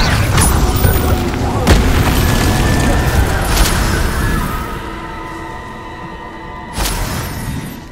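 A fiery spell cast in Hogwarts Legacy lets out a broad rumbling burst with crackling flame that fades, then a second sharp whoosh-blast near the end, loud and close against game ambience.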